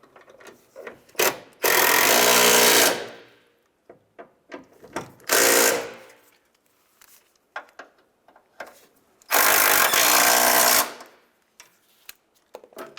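Ratchet tightening hood hinge bolts on a 1992-1996 Ford F-150, three loud bursts of rapid close clicking separated by short pauses, with scattered taps and clunks between them.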